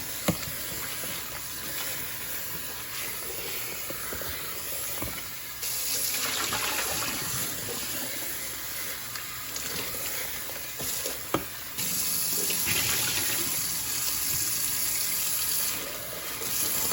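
Tap running clean water into a container for tumbling Lake Superior rocks, a steady broadband gush that grows louder and fuller partway through, with a brief clunk near the middle and no talking.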